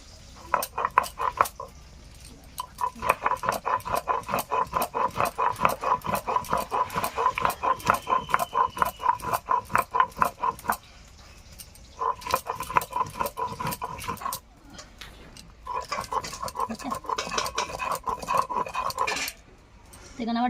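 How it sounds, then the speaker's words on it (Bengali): Soaked red lentils are ground into a paste on a stone, giving steady rhythmic back-and-forth scraping strokes, close and fairly loud, with brief pauses partway through. "তো ভিজিয়ে রাখা ডালটা আগে আমি বেটে নেব।"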